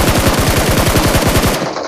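Rapid automatic gunfire in a mobile battle royale shooter game, a loud, close burst of evenly spaced shots at a fast steady rhythm that stops abruptly near the end.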